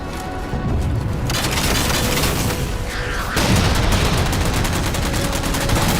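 Dense, sustained gunfire in Halo: The Master Chief Collection as jammers are shot down: loud, rapid overlapping shots and booming impacts that grow heavier partway through.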